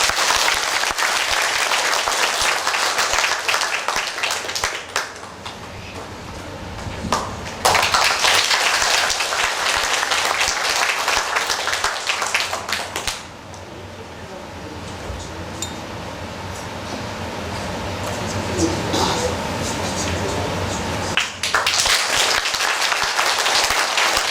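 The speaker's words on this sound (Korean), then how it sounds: "박수 한번 쳐드릴까요?" A Korean Baptist church congregation applauds during a baptism certificate ceremony, with loud bursts of clapping that swell, drop off and start again across several rounds in a reverberant hall.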